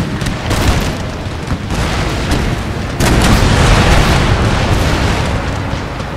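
Cannon and organ gun volleys boom continuously in the Empire: Total War video game, producing a loud, dense roar of overlapping blasts with a sharp new burst partway through.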